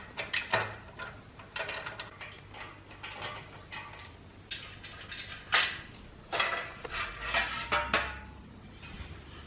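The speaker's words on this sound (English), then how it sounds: "You just need your 8mm socket and there's 4 bolts to take off" Socket wrench clicking and ratcheting as bolts come off a Yamaha Tenere 700 bash plate, a series of close metallic clicks and clanks in irregular bursts, no talking.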